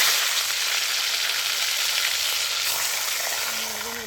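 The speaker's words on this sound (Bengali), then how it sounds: "ওই তেলের মধ্যে আমি মাছের মাথাগুলো আমি ভালো করে ভেজে নিচ্ছি।" Fish heads fry in hot oil with a dense, steady crackling sizzle that holds evenly throughout, close and fairly loud, with a faint scrape of stirring near the end.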